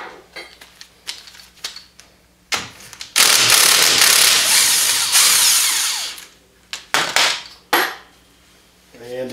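A power tool whirs in a loud, sustained burst lasting about three seconds while loosening a 13 mm bolt on the upper spindle of a 2015 Wildcat Sport, with sharp metallic clanks and clicks before and after.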